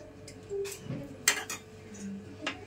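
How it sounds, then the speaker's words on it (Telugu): A lid set onto a cooking pot of white mutton gravy, a few light metallic clinks and taps spread across a quiet moment, close and fairly soft. "మూత పెట్టేసి"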